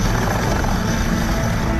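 An Indian Army Dhruv helicopter flying, a loud, dense, continuous roar of engine and rotor that fills the whole span without letting up.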